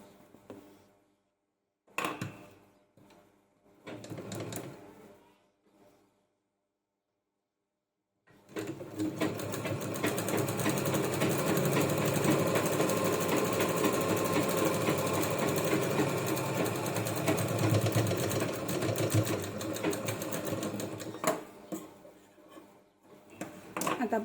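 A domestic sewing machine stitches a bag made from a saree blouse piece, first in a few short bursts, then in one long, steady, even whirring run before stopping.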